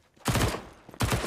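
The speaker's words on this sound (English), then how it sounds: "SMG bursting through, does take a secondary kill" Two sharp SMG bursts crack out in Counter-Strike during a professional IEM Katowice match, each a dense rapid rattle lasting a fraction of a second, loud and close, separated by a brief lull.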